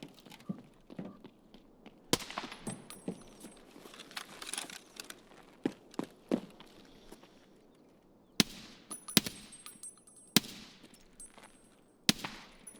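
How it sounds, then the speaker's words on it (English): Scav gunfire in Escape from Tarkov, sharp cracking shots in scattered single reports and short bursts, some loud and near, others fainter, separated by quieter gaps of footsteps and rustling. "Scav shooting at me there."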